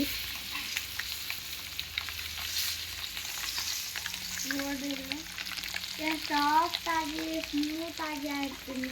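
Egg fried rice and a dhaba-style egg fry sizzle steadily in a pan, with stirring and scraping throughout and a voice talking over the cooking in the later part.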